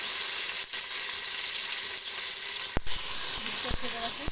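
Onion, garlic, ginger and tomato frying in a pan for aloo palak, giving a steady, loud sizzle throughout with a few short clicks and scrapes near the end.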